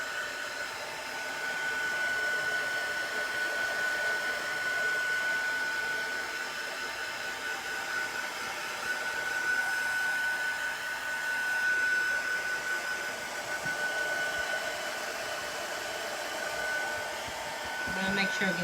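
Hair dryer blowing steadily on chalk paste over a craft piece, a continuous close whirring hum holding for the full length with slight swells, running alone without talk.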